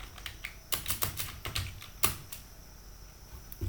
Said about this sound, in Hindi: जैसे कि हम कुछ भी लिखना शुरू किए तो टाइप हो गया